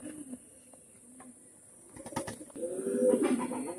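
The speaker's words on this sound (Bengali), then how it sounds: "এটা সাহারামপুরি নাপ্তা কবুতর।" A Saharanpuri napta pigeon gives a few soft, low, throaty coos near the end, close by, after quieter rustling and faint background noise.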